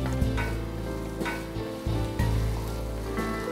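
Finely chopped onion softening in hot oil in a pan for sausage fried rice, a close, continuous dense sizzle with faint stirring movements and no voices.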